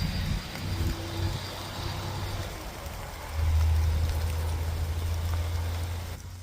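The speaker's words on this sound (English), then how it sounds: "The rains of fall have come. It is pouring." Heavy autumn rain pours steadily outdoors, a dense continuous wash of drops with a low rumbling hum underneath that grows louder partway through.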